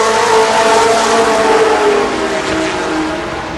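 Super late model race cars circle the Columbus Motor Speedway oval in 1992, a loud sustained roar of several engines at speed, close and unbroken, with no voices.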